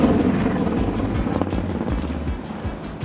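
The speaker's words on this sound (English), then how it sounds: "it's just been nothing but the sound of helicopters flying by" Loud, continuous rotor thumping of a military helicopter passing close overhead, a deep rhythmic chop with a roaring engine drone.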